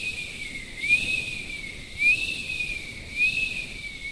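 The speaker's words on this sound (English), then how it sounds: "that wind whistling through the branches of the trees" A thin, high whistle drifts steadily with three gentle swells, like wind keening through branches, with no voices.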